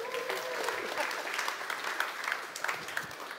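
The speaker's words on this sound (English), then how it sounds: "Can we give our drummer a big round of applause?" An audience at a church talk applauds the drummer with dense, sustained clapping that runs through the whole moment, close and fairly loud, with a few voices mixed into the crowd.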